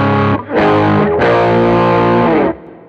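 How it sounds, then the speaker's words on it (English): Electric guitar played through a rock-style overdrive gives a thick, distorted tone: a short note, then two sustained, buzzing chords ringing loudly with no voices. "one thing I do like to borrow from the rock guitar players is the sort of drive sounds they get"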